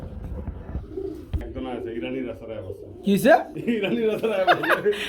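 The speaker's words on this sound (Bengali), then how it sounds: "এটা হচ্ছে বন্ধুরা মূলত রেসার কবুতর" Racer pigeons at a farm sale coo in low, throaty bursts, close and clear, with someone talking alongside and louder calls near the end.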